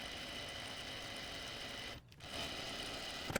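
A sewing machine stitches a 1/2 inch seam for an Inman top and dress, a steady fast whirring hum close by that pauses briefly before resuming.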